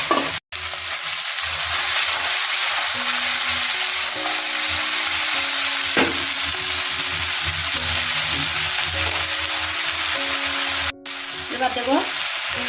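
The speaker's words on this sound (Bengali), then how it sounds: "এবার দেব কেটে রাখা ধুদুলগুলো।" Sliced ridge gourd fries in hot oil tempered with black cumin seeds and a bay leaf, giving a steady bright sizzle with occasional stirring clinks and pops.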